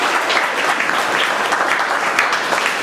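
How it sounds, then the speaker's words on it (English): An audience at a Toastmasters club meeting in Bangalore claps together in a continuous, close round of applause lasting a few seconds, with no voices over it. "let's give a round of applause for starting the meeting"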